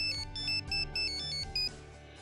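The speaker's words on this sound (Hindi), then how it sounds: "किसका फोन था?" A mobile phone ringtone plays a bright, repeating electronic melody over a low backing line, loud and close, with no talking over it.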